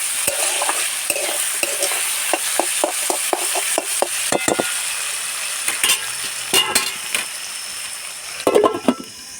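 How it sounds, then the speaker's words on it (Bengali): Greens with turmeric and salt being stirred in a pan, with a rhythmic series of sharp spatula scrapes and taps over a steady sizzle, close and loud. "আর এবার নেড়ে চেড়ে নিয়ে ঢাকনা ঢাকা দেবো"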